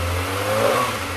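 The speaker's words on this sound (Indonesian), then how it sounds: "Itu dia tadi suara dari ZX25R." A stock-exhaust Kawasaki ZX25R motorcycle engine revs up close in one steady, loud burst with a low rumbling drone, heard alone.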